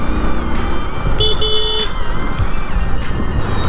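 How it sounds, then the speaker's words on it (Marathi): Loud road noise surrounds an old Mahindra jeep in traffic. A short horn toot cuts through the steady engine and tyre rumble. "आयला लय दिवसांनी गाडी दिसली, महिंद्राची जुनी जीप."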